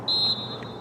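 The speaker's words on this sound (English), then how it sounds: "referee blows the whistle, gives the ball to Lourdes." A referee's whistle blows one short, sharp, shrill blast at a girls' high school soccer game, loud and alone against faint field ambience.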